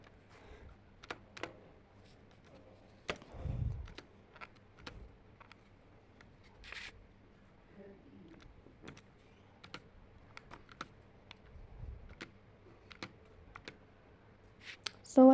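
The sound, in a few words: typing on calculator keys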